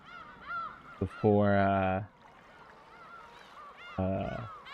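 Seagull cries from the Umineko visual novel game: loud harsh honking calls, a short burst then a long stacked squawk, and another call a moment later, with game sounds and talk faintly around them.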